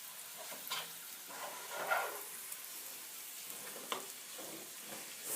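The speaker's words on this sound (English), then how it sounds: "See how nice and sauteed the cabbage becomes with the Cajun seasoning, the butter, and the olive oil." Cabbage sautéing in butter and olive oil with Cajun seasoning gives a faint, soft sizzle and frying crackle with a few light stirring clicks and pops.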